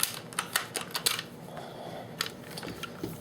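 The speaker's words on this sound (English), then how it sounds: "Let me take the magazine out." Magazine being pulled from a Mini 14 rifle: a handful of sharp metallic clicks and rattles, close and fairly loud, with quieter handling noise between them and no talk.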